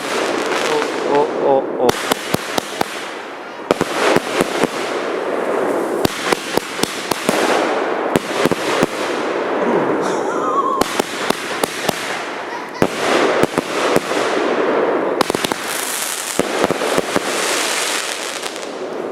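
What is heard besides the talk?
Coco Twist 12-shot fireworks cake going off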